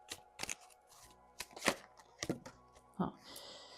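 Tarot cards being shuffled by hand, a series of quick papery riffles and slaps in uneven bursts, close and moderately loud with no talk.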